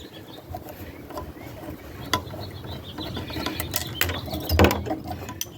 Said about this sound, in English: 7/16 nuts, and these are ratchet wrenches I got. Take everything right off.